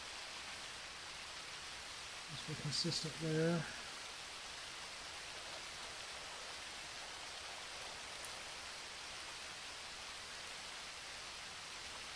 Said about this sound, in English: It's raining just like it is outside